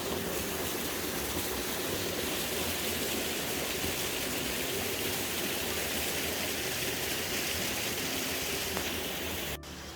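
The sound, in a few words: waterfall on a forest hiking trail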